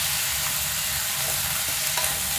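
Broccoli, cauliflower, sweet peas and carrot are stir-fried in a hot pan for pancit, giving a loud, steady, close sizzle with scraping stirring, and no talk over it.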